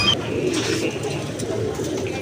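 Soft, low pigeon cooing close by, a steady murmuring call over faint background noise.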